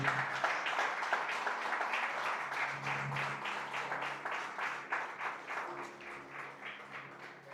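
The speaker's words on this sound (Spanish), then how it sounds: "Dale un fuerte aplauso a nuestro Dios." Church congregation applauding steadily during a Spanish-language Christian sermon, a dense, sustained wash of many hands clapping that stays fairly loud throughout, with a faint voice or tone underneath.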